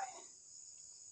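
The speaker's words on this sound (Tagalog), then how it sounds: "Dami namang insekto." Crickets and other insects chirp at night in a steady, high, continuous drone, with a brief fainter noise at the start.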